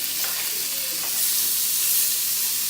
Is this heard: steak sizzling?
yes